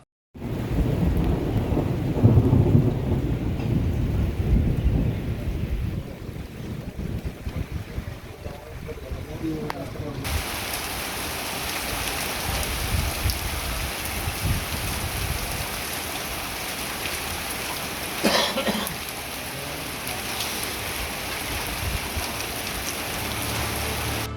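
Heavy rain pours in a steady, loud wash over wheat farmland in Punjab, India, with a low rumble early on and the downpour continuing unbroken.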